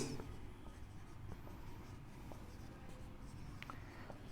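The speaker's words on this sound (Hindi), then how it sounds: "तो यहां लिखेंगे परीक्षण आवेश" Writing on a board during a physics lesson, heard as faint scratchy strokes and light taps in a continuous soft run over room noise.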